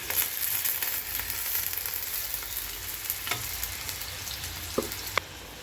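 Onions fry in a generous amount of hot oil for a prawn curry, giving a continuous, even sizzle and hiss. Occasional soft stirring scrapes and a couple of light taps sound near the end.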